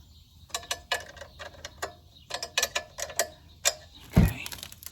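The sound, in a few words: snugging up engine guard bolts on Royal Enfield Classic 350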